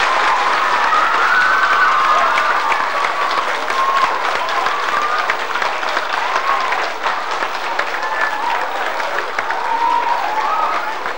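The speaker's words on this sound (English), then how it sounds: "could you give Andy a round of applause?" A loud, sustained round of applause from a crowd for a guest named Andy, with faint cheering mixed into the steady clapping.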